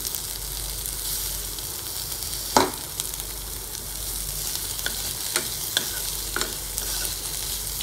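Ingredients for a spicy tomato chutney sauté in a pan, a continuous sizzle with occasional scraping knocks from stirring, one louder clack among them, close and without speech.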